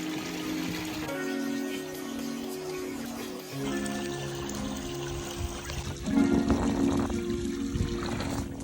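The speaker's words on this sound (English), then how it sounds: "I'm just gonna pour this, I think it's like a peroxide" Peroxide, about 35 percent, is poured into a tub of water. It gives a continuous trickling pour with a low hum underneath, and the splashing grows louder and busier near the end.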